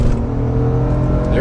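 A car pulls out and the engine revs up under hard acceleration, a loud close engine drone with someone talking over it.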